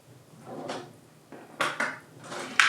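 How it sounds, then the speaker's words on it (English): A spoon stirs vegan macaroni and cheese in a baking dish, making a few close scraping and clinking strokes against the dish with short pauses between them. "we'll give that a stir"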